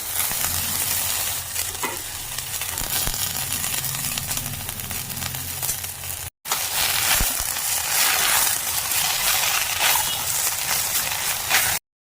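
Fenugreek greens sizzle loudly in a pan with fried eggplant as they are stirred and tossed, a steady frying hiss with scraping, broken by one short gap.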